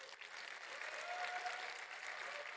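A conference session audience applauds for Team Troubleshoot, a steady wash of clapping from a crowd at moderate distance that holds evenly for a few seconds with no talk.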